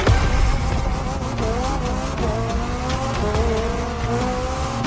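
Triumph motorcycle engine in The Crew Motorfest racing game, revving loudly and steadily with rising pitch sweeps as it shifts through gears, with no voices.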